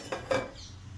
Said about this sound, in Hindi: और इसको मैं मिक्स कर लूंगी।